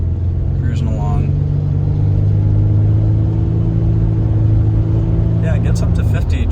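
Inside an old Ford Ranger pickup cruising on a road, the engine drones with a steady low rumble while a person talks over it.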